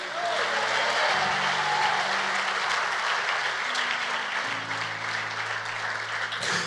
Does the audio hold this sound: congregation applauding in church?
yes